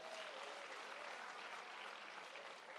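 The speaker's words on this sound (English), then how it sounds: "let's give KZN a big round of applause" A crowd at an ANC rally claps for the KZN province delegation, producing a steady, fairly faint wash of applause lasting the whole moment.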